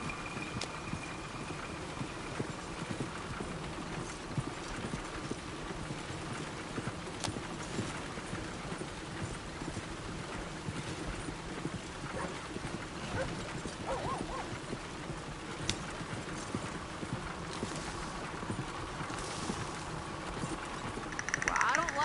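Horse hooves clip-clop steadily in Red Dead Redemption 2, a continuous rhythmic gallop under game ambience with voices talking over it and a brief dog-like whimper near the end.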